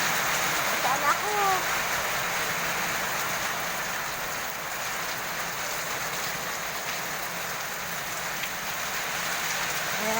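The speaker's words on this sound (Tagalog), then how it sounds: "biglang bagsak ng ulan. Ayan, lakas na lakas" Heavy rain pours onto a roof in a steady, dense hiss with constant drumming and faint scattered drips, while a voice talks now and then over it.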